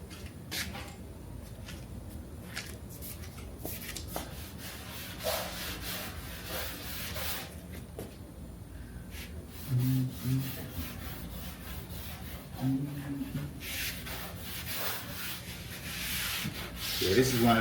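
Steady hand wiping of oil across a patina body panel on a box Chevy Caprice convertible, a continuous soft rubbing and scuffing that runs throughout with irregular louder strokes near the end.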